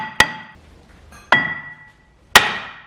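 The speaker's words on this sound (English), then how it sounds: "So I'm just going to crack it off with a hammer and spanner" A hammer strikes a spanner three times, about a second apart, to crack loose a 21mm brake caliper carrier bolt on an Audi A3 2.0 FSI Quattro. Each blow lands as a loud, sharp metallic clank with a brief ringing tail.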